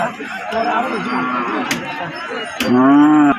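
Cattle moo at a rural livestock market selling improved-breed cows and calves in Dinajpur, with several drawn-out lowing calls, one loud and near toward the end, over faint crowd noise.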